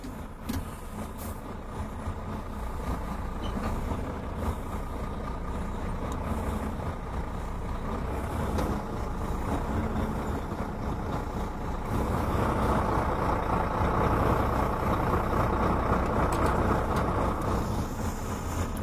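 A truck rolls slowly forward to bring its fifth-wheel coupling to half position, a low steady engine rumble that swells in loudness partway through, with no talk.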